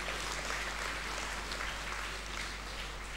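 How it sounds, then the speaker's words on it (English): Audience applause at a school centenary investiture ceremony, honouring the UK Deputy High Commissioner; steady, even clapping from a crowd that fills the whole short stretch without pause. "I think he deserves a huge round of applause"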